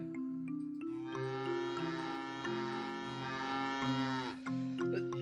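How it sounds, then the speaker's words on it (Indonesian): A cow gives one long, drawn-out moo lasting several seconds, a loud tonal bellow that rises in and cuts off sharply, set over a steady low background hum. "bunyinya sapi"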